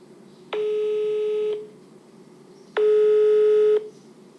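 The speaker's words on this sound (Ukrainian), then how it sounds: "Втретє, намагаюся дозвонитися до Дмитра Олександровича" Two long, even telephone call tones sound about two seconds apart on a phone line, each steady beep lasting around a second against a faint hiss, with no talk over them.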